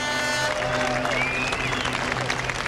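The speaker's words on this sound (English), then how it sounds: "as you can no doubt hear, the celebrations are at their most raucous here. The crowd into this almost as much as the drivers." A crowd cheers and applauds in celebration after the Le Mans 24 Hours race, a dense continuous roar of clapping and voices with a whistle-like tone sliding through.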